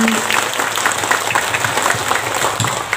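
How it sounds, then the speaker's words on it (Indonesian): An audience at an Islamic religious talk gives a steady round of clapping for santri students, with scattered crowd voices mixed into the applause. "Tepuk tangan dulu dong buat santri."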